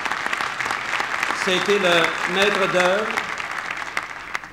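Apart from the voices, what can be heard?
audience applauding M. Benoît Baribeault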